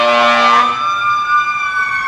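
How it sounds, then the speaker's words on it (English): A fire truck siren wails loudly and close, its steady tone sliding slightly lower as it passes by. "Here comes a fire truck."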